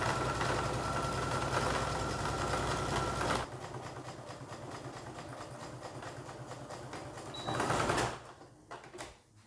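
Sewing machine running steadily while stitching a curved seam on denim dungarees made from old jeans, a loud continuous mechanical hum for several seconds that then drops to a quieter rattle and stops.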